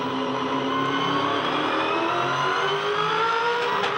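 A 2011 V8 Supercar at Winton Raceway powers out of a long, slow corner, its engine note climbing steadily toward full throttle, loud and continuous with rising harmonic whine and no voices.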